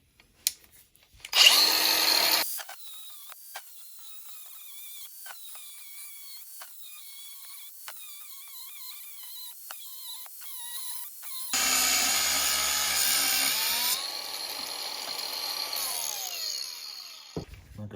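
A power tool cuts into a 6L80 transmission case: a short loud whine at the start, then a quieter run of rapid ticking contacts, then a second sustained high-pitched grinding stretch that slowly tapers, with no talk.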